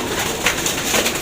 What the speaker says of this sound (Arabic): ده فرده حمام تمام